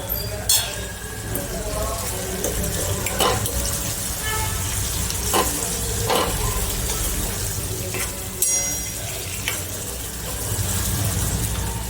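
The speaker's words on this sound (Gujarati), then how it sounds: "તો આપણે એમાં લાલ મરચું પાવડર નાખીને મિક્સ કરીશું." A spoon stirs parval (pointed gourd) curry in a pan as red chili powder goes in, giving steady sizzling with scattered scraping clinks against the metal, close and moderately loud, with no talking.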